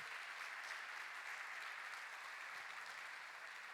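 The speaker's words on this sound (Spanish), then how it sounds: "Démosles un aplauso a los nuevos esposos." A church congregation applauds a newly married couple, with steady, even clapping from many hands, moderately distant and continuous, with no talk over it.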